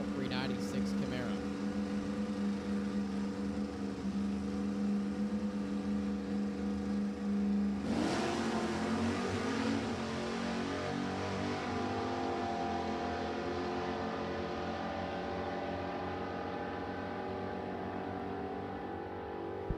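A Chevelle and a 396 Camaro launch off the line at a drag strip, engines roaring loud and steady throughout with a sharp surge partway as they accelerate away, while an announcer's voice carries over the top.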